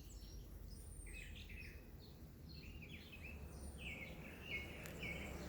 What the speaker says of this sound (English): I hear a catbird. Sounds just like a cat.